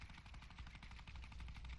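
A Fortnite minigun spraying sustained automatic fire, a steady, dense rattle of rounds that stays even and prominent from start to finish, with no voices.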